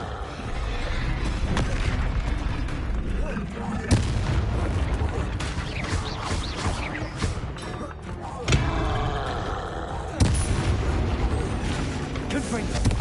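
Confringo and Bombarda explosion spells going off in Hogwarts Legacy on PS5: repeated booming blasts with roaring rumble, several sharp impacts spread across the stretch, while a voice talks throughout.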